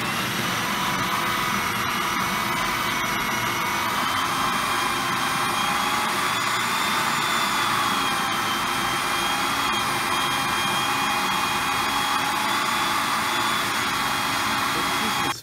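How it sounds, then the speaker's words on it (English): Electric mixer or food processor blending lamb mince into a smooth paste for lahmajun, a loud steady motor whine running without a break from start to finish. "I'm just going to give it a quick mix to get it all combined."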